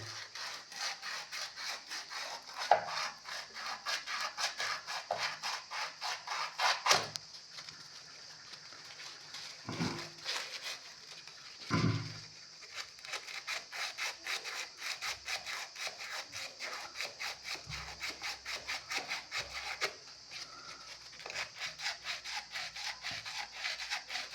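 Copper water pipe is rubbed clean before soldering, a fast rhythmic scrubbing rasp repeated in long close bursts, broken by a few short pauses and knocks, with no voices.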